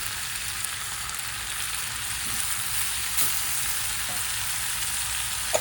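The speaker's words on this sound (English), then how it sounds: "Salt hastens the frying of the tomatoes and onions also" Salted tomatoes and onions fry in a pan for chutney, a steady close sizzle with a few faint clicks of stirring.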